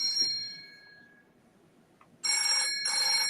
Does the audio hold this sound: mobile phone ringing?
yes